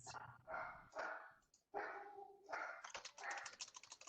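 A dog barks several times up close, a run of sharp separate barks followed by a quicker volley near the end, with a drawn-out whine or howl in the middle and no talk over it.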